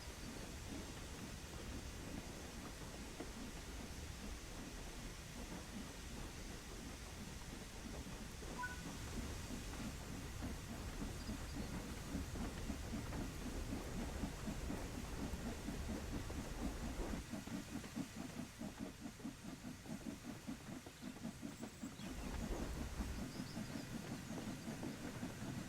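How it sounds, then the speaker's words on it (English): A steam locomotive in a train simulation game runs along the line, giving a faint, steady mechanical rumble with rhythmic chuffing that strengthens in the middle and changes tone toward the end. "Hey, I got the train going"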